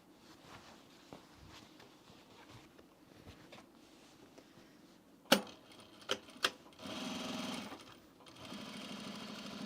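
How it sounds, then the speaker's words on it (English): A sewing machine top stitches a dart on men's pants, running with a faint steady mechanical patter, broken by a few sharp knocks, then a louder burst of continuous stitching near the end. "I'm just top stitching the dart here."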